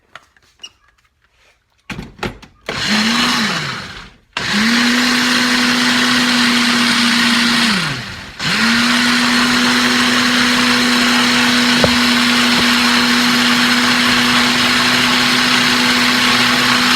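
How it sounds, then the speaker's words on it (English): A kitchen blender purees shrimp taco sauce ingredients including onion and salt, a loud steady whirring hum in two long runs with a brief stop between, after some clattering as it starts. "now we're just gonna mix up everything in our blender here"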